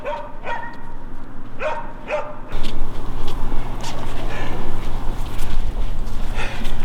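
Dogs bark during a moose hunt outdoors, a few sharp, moderately distant barks and yips at first, then continuous barking over a steady rushing background noise.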